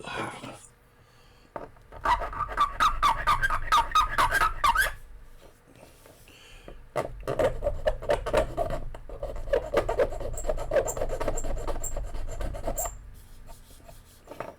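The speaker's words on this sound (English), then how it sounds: "So let's go ahead and file this one down." Steady rasping of a hand file scraping across a Hot Wheels diecast metal car part in rapid back-and-forth strokes, in two long bursts separated by a brief pause.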